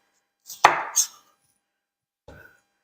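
A knife slices red, green and yellow peppers on a board. Two quick, crisp cuts are followed by a pause and one softer stroke, close up in otherwise quiet surroundings.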